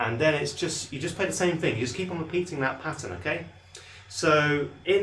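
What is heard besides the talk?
No everyday noises stand out.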